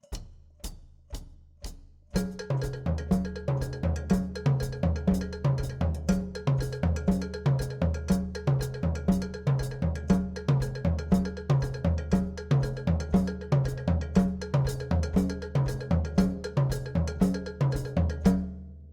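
A drum kit plays a Latin jazz Mozambique groove: a steady cowbell-like bell pattern rings out over low tom tumbao strokes in a repeating groove, after a few sparse opening hits; loud and continuous.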